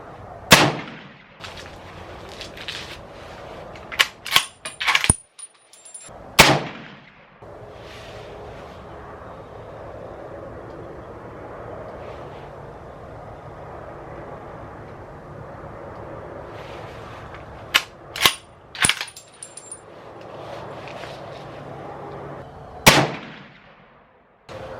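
Sharp, loud rifle shots from a Ruger Go Wild chambered in 300 Win Mag at a shooting range, fired in groups of three with long quiet gaps between them and booming echoes after each report.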